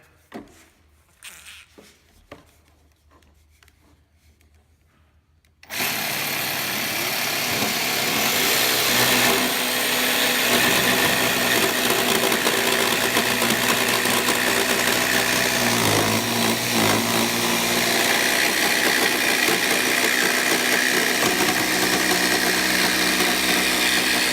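A Festool Carvex jigsaw makes a second cut through guitar body wood, starting abruptly after some quiet handling noise and then running loud and steady, with a high, buzzing whine that holds up close.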